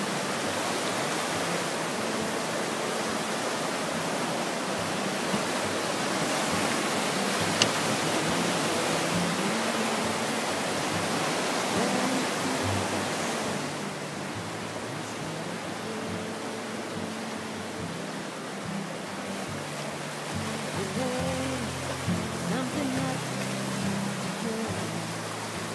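The River Thames at Reading rushes past in November flood, a dense, continuous roar of fast-flowing water heard close up, with faint voices murmuring in the background.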